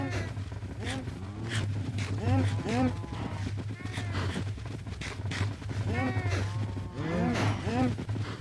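A cat in Minecraft meows repeatedly in short rising-falling calls, a few at a time in clusters, over a steady low background hum while a person talks.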